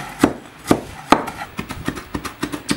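A knife chops herbs rapidly on a cutting board for Lao laab, a few heavy strokes followed by a quicker, steady run of lighter chops.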